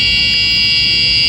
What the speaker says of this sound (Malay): Apabila sensor ini mengesan ada gas di dalam kawasan toilet ini, dia akan mengeluarkan alarm dan juga menyalakan lampu merah ini.